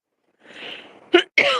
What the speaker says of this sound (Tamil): ஒரு வரி பாடினாலே இருமல் வருது.